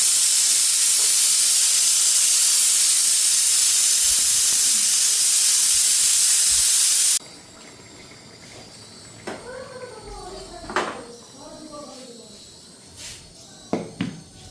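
Water poured onto frying jackfruit curry masala sets off a loud, close hiss that holds for about seven seconds, then cuts away to quieter kitchen sounds with brief chirping and clinks.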